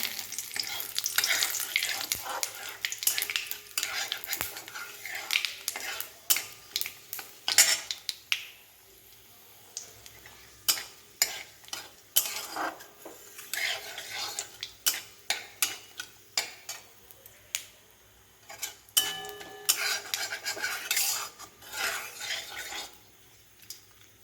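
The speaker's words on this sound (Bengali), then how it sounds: "ফোড়নটা ভাজা ভাজা হয়ে গেছে।" Dried red chillies and bay leaves frying in hot oil for a tempering, with a steady sizzle broken by frequent sharp clinks and scrapes of a spoon stirring in the pan, close up and without speech.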